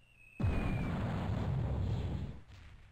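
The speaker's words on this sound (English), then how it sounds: "Oh, that was a big explosion." A big explosion in the Zero-K real-time strategy game bursts in suddenly with a loud, broad roar and rumbles on for about two seconds before cutting off, with no talk over it.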